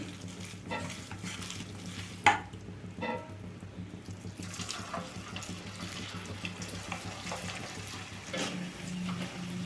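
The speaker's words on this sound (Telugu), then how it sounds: "ఇట్లా బాగా అయితే క్రిస్పీగా అయితే వేయించుకోవాలండి" Pieces of little gourd (dondakaya) for a 65-style fry sizzle softly in hot oil, with a steady low crackle broken by a few clinks and stirring scrapes, close by.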